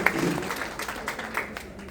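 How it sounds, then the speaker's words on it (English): A modest round of clapping from an evening gathering in Kentucky and Tennessee, fairly soft and continuous, tapering slightly toward the end. "give y'all self a round of applause"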